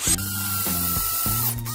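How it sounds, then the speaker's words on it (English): A power drill bores through a stack of dimensional lumber, the bit resting in a saddle jig. Three loud, steady motor bursts run back to back with short gaps between them, and no talk is heard. "take your drill bit and again rest it right in that saddle and drill away"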